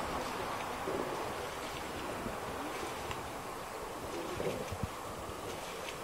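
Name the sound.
water lapping on a lake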